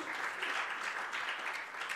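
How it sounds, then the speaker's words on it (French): Audience applause at a Middle East peace conference panel, a brief steady burst of many hands clapping in a hall, uninterrupted by speech. "Vous avez raison d'applaudir parce que c'est remarquable."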